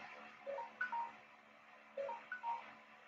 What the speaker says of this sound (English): Sorry, my phone keeps going off.